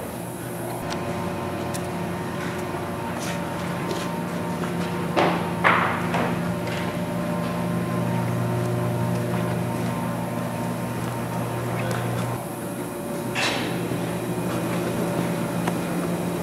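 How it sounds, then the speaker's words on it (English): A Vulcan Drying Systems 1-ton portable thermal desorption unit runs with a steady mechanical hum and drone, punctuated by a few clanks and thuds, heard from moderately close with no talking. "Vulcan Drying Systems 1-ton portable thermal desorption unit."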